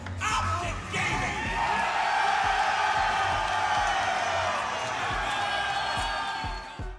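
A crowd at an esports grand final cheers and yells for OpTic Gaming, a loud, sustained roar of whoops and shouts that swells and holds for several seconds.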